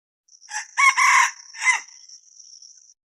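A rooster crows once, close and loud, its call breaking into a few strained bursts before trailing off into a thin, fading tail against a silent background.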